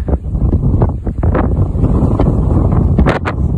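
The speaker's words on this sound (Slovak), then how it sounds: "Začal fúkať vietor." Strong wind gusting across a high mountain pass, a steady loud roar buffeting the microphone with rushing surges and brief louder gusts near the end, with no talk.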